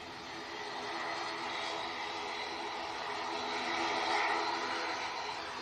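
A passing airliner gives a steady, broad engine roar that builds gently and peaks near the end, heard from the ground at a distance without speech.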